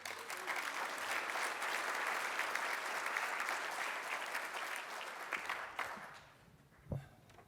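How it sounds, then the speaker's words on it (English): Steady applause from a luncheon audience at a men's foundation event fills the room, then thins and fades out over the last couple of seconds with a final stray clap. "Big round of applause, ladies and gentlemen"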